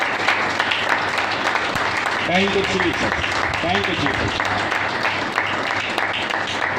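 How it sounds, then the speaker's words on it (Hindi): A church congregation claps loudly in a continuous, dense wave of applause, while voices call out praise over the clapping partway through. "अपने खुदा पाक के लिए और उसके कलाम के लिए जोरदार तालियां बजाएं।"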